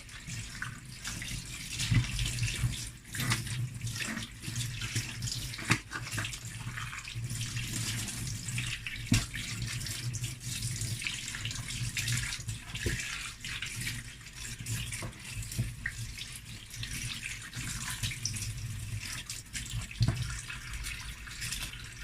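Water from a kitchen tap runs steadily over a pepper being washed in the sink, a continuous close splashing stream with small shifts as the pepper is turned under the flow.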